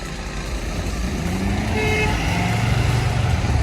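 Ford F-350 truck engine with its turbo spooling, a steady loud roar with a rising whine building midway, out on a snowy blizzard recovery.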